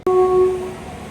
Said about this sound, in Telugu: అదిగో హాంకింగ్ విన్నారా? WAG 9 లోకోమోటివ్ అయితే వచ్చేస్తుంది మన ట్రైన్ ప్లాట్ఫామ్ నెంబర్ 3కి